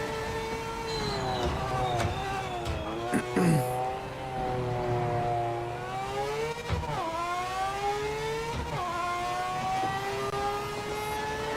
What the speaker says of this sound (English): This Mazda sounds wild.